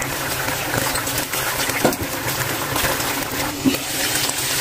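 Cooking oil pours into a frying pan set for longganisa sausage, a steady close rushing, gushing wash of liquid that runs unbroken for several seconds with no voices.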